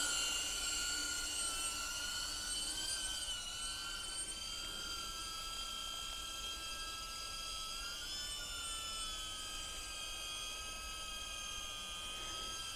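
A DJI Avata FPV drone hums with a steady, high-pitched propeller whine that stays loud and constant throughout, with slight pitch wavers and no talking.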